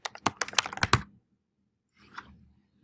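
Quick keystrokes clatter on a computer keyboard in a burst of about seven close clicks, then a pause and a few softer taps.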